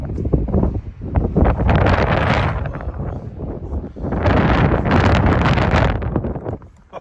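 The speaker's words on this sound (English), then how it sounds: "It's cold on the other side. Wind is strong." Strong, cold wind roars across a mountain lookout near 9,000 feet, gusting loudly and continuously in two long surges with buffeting rumble against the microphone, no talking.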